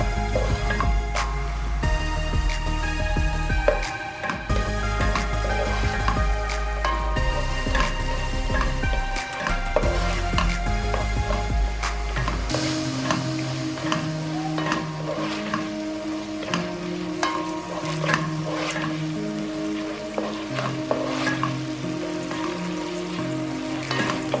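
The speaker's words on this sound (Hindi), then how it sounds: "प्याज को हम हल्का सा भून लेंगे इसमें।" Onions fry lightly in a pan for a yogurt and turmeric almond mutton curry, giving a steady, close sizzle and crackle that continues throughout, with a low humming tone beneath it during the first half.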